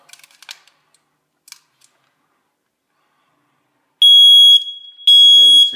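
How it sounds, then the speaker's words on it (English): A hard-wired smoke alarm being tested during a house inspection gives two loud, piercing electronic beeps close by, each lasting about half a second, after a stretch of quiet with faint clicks and handling noises. "Smoke alarms working"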